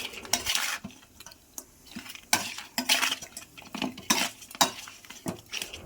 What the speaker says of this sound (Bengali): এবার মেখে নেব হলুদ আর নুন।